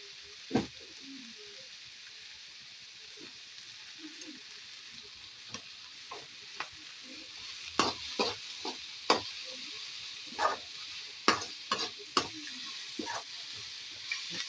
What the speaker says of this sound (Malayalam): പെട്ടെന്ന് വഴന്ന് കിട്ടാൻ കുറച്ച് ഉപ്പിട്ട് കൊടുക്കും.